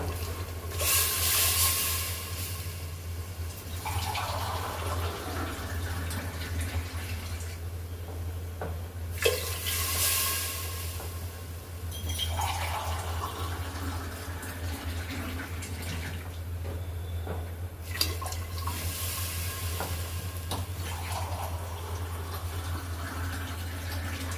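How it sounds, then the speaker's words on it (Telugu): Water pours steadily into a pot for mint pulao, a continuous close splashing stream with surging and easing passages and a low steady hum underneath throughout. "ఇప్పుడు మనము వాటర్ కొన్ని యాడ్ చేసుకుంటామండి"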